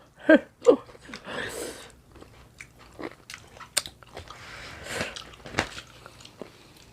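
Someone eats a liver dish up close, starting with two sharp bites and then soft, irregular chewing and mouth noises that fade into quieter smacking.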